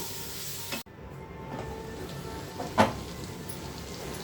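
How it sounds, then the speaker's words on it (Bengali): Fried potatoes, eggplant and bori sizzle in a pan as they are stir-fried with spices; a steady, moderate hiss with a few clinks and scrapes of the spoon. "আলু বেগুন বড়ি যেটা ভেজে রেখেছিলাম আমি দিয়ে দেবো দিয়ে মশলার সঙ্গে ভালো করে এক মিনিটের মতন কষিয়ে নেব"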